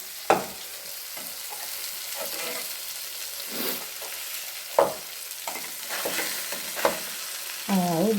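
Pieces of fish fry in a hot pan with a continuous soft sizzle, broken by several sharp clinks and scrapes as each piece is turned over one by one.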